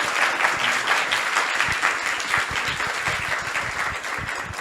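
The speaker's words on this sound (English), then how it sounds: "let's give him a round of applause for that." A gathering at a Vyasa-puja celebration gives warm, steady applause, dense clapping filling the room with some louder individual claps near the front, no speech over it.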